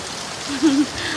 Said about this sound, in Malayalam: ചെറിയൊരു ട്രിപ്പ് വന്നതാണ്. പക്ഷെ നല്ല മഴയത്താണ്.